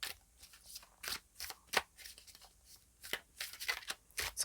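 Tarot cards being shuffled and drawn from the deck: crisp, papery riffles and snaps arrive in irregular bursts, close and fairly quiet, with no talking.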